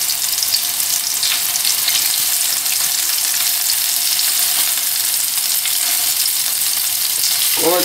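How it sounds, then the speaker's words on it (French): Reheated bacon pieces and a burger steak fry in a pan, giving a loud, steady, dense sizzle that fills the whole stretch with no talk over it. "on peut rajouter à faire chauffer les morceaux de bacon qu'on a cuit"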